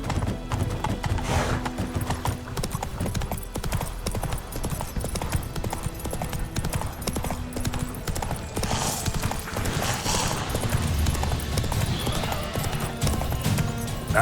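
Galloping hooves of the horse Roach in The Witcher 3, a fast continuous clip-clop rhythm with a brief whinny, loud and close under game music and effects.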